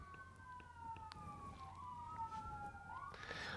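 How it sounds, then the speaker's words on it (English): An ambulance siren passes by outdoors, its steady wailing tone rising and falling in pitch as it approaches, with the sound growing louder and brighter near the end, heard alone without speech. "I will pause to let the ambulance pass by."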